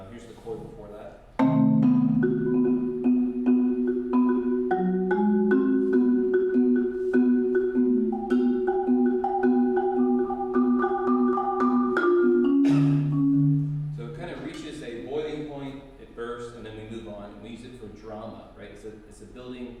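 Mallet percussion passage from Alejandro Viñao's Khan Variations, resonant sustained marimba-like tones layering into chords and shifting lines, played solo and fairly loud, ending with a busier, more scattered texture.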